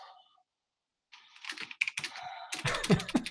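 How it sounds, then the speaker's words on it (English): Keyboard typing starts after a second of quiet: rapid, uneven key clicks and clacks, growing busier and louder toward the end. "Now you're typing?"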